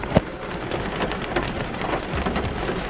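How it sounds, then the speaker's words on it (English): Rain falls steadily and close by near a river in Jamaica, a dense hiss of drops on surfaces with a sharp patter right at the start and no voices. "It's raining at the moment,"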